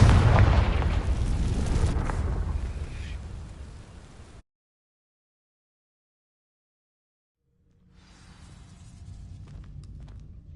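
A Confringo spell blast in Hogwarts Legacy hits with a loud, rumbling boom that fades over a few seconds, then drops into silence before quieter crackling debris returns.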